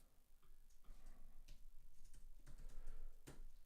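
Quiet typing on a computer keyboard, a scattered run of light key clicks with a few sharper taps, close and alone in a quiet room.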